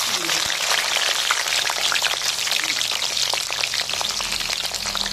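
Chopped tomatoes frying in a hot pan over spices and bay leaf, a dense, even crackling sizzle like rain on a surface, loud and continuous throughout.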